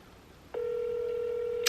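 A phone dialing tone: a single keypad tone at first, then a steady unbroken call tone carrying on with a short click near the end, moderately loud and with no talk over it.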